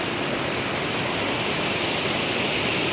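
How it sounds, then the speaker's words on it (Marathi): Steady, loud roar of a waterfall on a river in the Konkan region, a continuous broadband rush of falling water that holds even throughout, close and alone with no voices. "हा बघा धबधबा"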